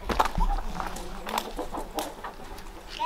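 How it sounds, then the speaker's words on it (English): Chickens cluck and murmur faintly at a distance outdoors, scattered soft calls over background noise with no clear talk. "Leave the chickens!"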